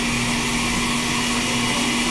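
A household blender runs steadily for the whole stretch, a loud continuous motor whir with a strong hum, no talk over it.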